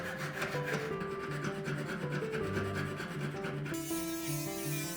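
Hand filing an enamel pin with a metal file gives steady repeated rasping strokes, close and fairly quiet, over a tonal music bed with no talk.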